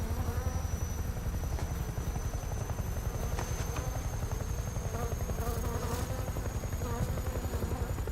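Hornets in the video game Metal Gear Solid Delta: Snake Eater drone in a dense, continuous buzz over a rapid rotor-like pulsing, steady and fairly loud, with faint voices beneath.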